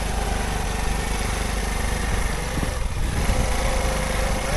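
Motorcycle riding slowly on a slippery, rain-soaked muddy village road, engine droning steadily up close with a rough buzzing tone and brief dips, no voices.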